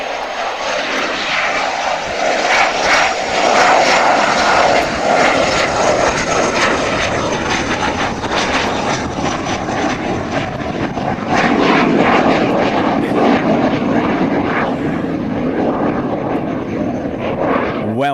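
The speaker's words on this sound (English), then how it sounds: "They used to send that drone up." A drone flying overhead, a loud continuous engine drone with a buzzing propeller whine that swells and eases slightly as it passes, steady throughout with no talking.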